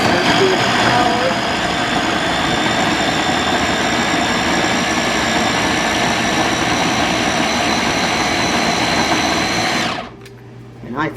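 Pampered Chef Flex+ Multi Prep motor runs steadily, chopping walnuts to a fine texture, a loud, even whirring drone that holds for about ten seconds and then cuts off abruptly, leaving near silence.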